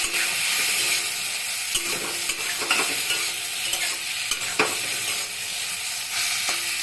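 Bitter gourd, potatoes and eggplant fry on a gas flame after sugar and a splash of water go in. A loud, continuous sizzle is punctuated by repeated spatula scrapes and clicks against the pan, with no speech.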